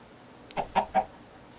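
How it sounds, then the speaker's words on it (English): A Minecraft chicken gives three short clucks in quick succession, close and fairly clear, with a brief click just before them and quiet afterward. "That is an interesting looking chicken."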